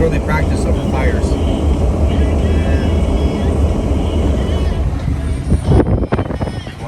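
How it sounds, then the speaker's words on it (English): A fixed-wing airplane drones steadily overhead while driving around an island, a broad continuous rumble that swells slightly toward the end, with faint voices nearby. "Well, I guess it's an airplane."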